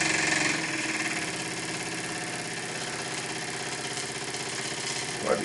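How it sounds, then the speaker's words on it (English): A Microcosm M1 marine steam engine runs unfastened on a surface, producing a steady, fast mechanical chugging with a rattling vibration, continuous and fairly close with no talk. "I think it's creating a little more noise than normal because of it not being fastened"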